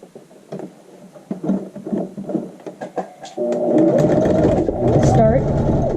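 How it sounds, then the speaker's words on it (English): A sewing machine stitches a half-inch seam along the rise of child's shorts. A voice talks at first, then the machine's steady, close whirring motor runs without a break through to the end. "Let's go ahead and sew these with a 1/2 inch seam allowance."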